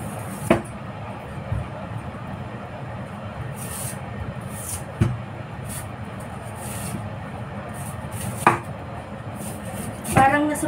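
A knife slices through purple ube for steaming, giving a few sharp, separate chops spaced seconds apart over a steady low background rumble.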